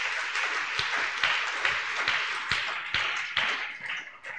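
A church congregation at a thanksgiving service clapping for the Lord Jesus, a dense roomful of rhythmic handclaps with steady beats sustained throughout, fading slightly near the end.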